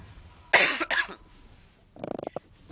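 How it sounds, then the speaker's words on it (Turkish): Two harsh coughs burst close into the microphone and overload it, followed a moment later by a shorter rattling series of muffled coughs or throat clearing. "ben öksürken mikrofon patlıyor"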